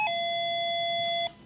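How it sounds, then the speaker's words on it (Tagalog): A doorbell chimes once, a sustained bright electronic tone ringing clearly and close for over a second before cutting off, with no talk over it. "Kita mo, meron pa tayong doorbell"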